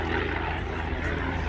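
A Morane-Saulnier D-3801, the Swiss-built MS-406 WWII French fighter, flies at the 2018 Fricktal-Schupfart air show. Its piston engine gives a loud, steady, unbroken drone from start to finish.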